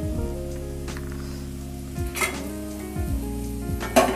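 Spices sizzle and fry in a hot pan while Maggi noodles are being cooked, a steady close crackle running throughout, with a few louder clatters from stirring near the middle and the end.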